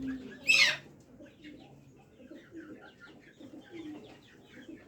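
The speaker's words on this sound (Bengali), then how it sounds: "এগুলা কোচিং মোরগ" Cochin rooster and hens on a poultry farm cluck in low, scattered murmurs, with one sharper, louder call near the start standing out over the quieter background clucks; no one speaks.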